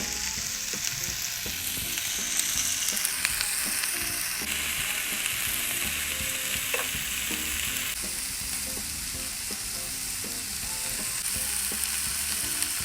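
Food sizzles loudly on a grill in a steady, close crackle, with clicks and scraping bursts scattered through it and no voices.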